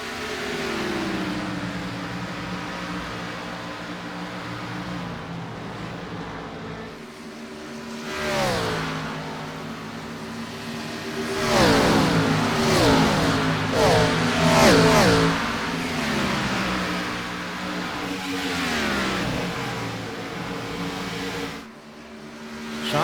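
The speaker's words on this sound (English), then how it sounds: "you can hear that 36 car is still clutching" The engine of the number 36 race car revs and roars during an all-star race at Charlotte, surging in repeated rising bursts with clutching and dips between them, steady and fairly loud.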